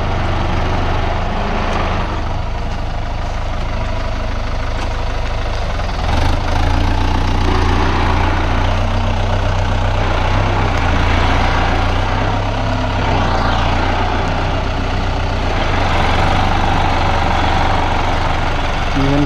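Kubota M9540 tractor running outdoors, likely loading with a bucket in rain: a loud, steady diesel drone with a deep low rumble and slight revving shifts, continuous throughout.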